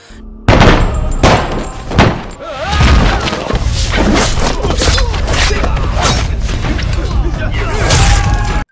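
Loud blasts and crashes as a rival gangster's properties are blown up in a martial-arts action film, with heavy booming impacts and a sustained rumbling roar, mixed with voices.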